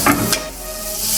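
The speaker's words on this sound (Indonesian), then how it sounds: "Oke, kita tumis dulu. Kita goreng dulu sebentar sampai layu sedikit ya." Vegetables stir-fried in a pan until wilted for a budget Indonesian home-cooked meal, a close sizzle with a couple of scraping stirs at the start, steady frying hiss throughout.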